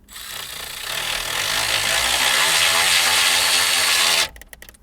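A power screwdriver whirs steadily for about four seconds as it drives a replacement screw into the radio bracket for the audio control module of a Ford Fiesta MK7, then stops abruptly.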